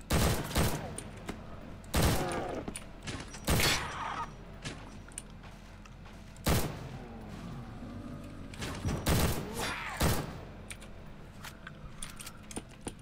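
MP40 submachine gun fire in a Roblox zombies shooter, sharp bursts of automatic shots repeating every second or two with mechanical clicks and rattles between them, loud and close.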